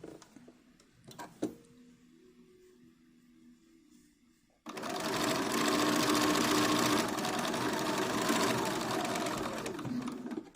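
A sewing machine back stitching a doll dress: faint handling clicks give way to a loud, continuous close-up whir of rapid stitching that runs to the end.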